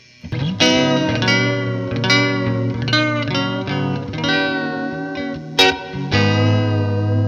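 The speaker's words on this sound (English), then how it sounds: "So I'll throw on some reverb." Electric guitar in a lo-fi indie style, played through a reverb effect; a clean strummed chord progression with bright, ringing sustained tones and a spacious wash, alone without talk.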